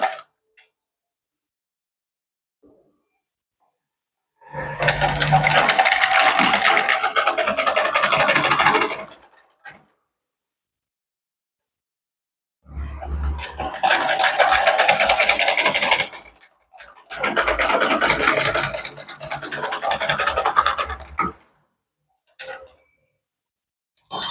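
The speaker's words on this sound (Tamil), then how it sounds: "இந்த சிப் தெரியாமல் இருக்க இதுக்கு மேலே வச்சுட்டு நம்ம தைச்சிட்டு வரணும்" A sewing machine stitches a zip onto a chudidar in three separate runs, each a steady, close, buzzing whir lasting several seconds, with silent pauses between them and no talking.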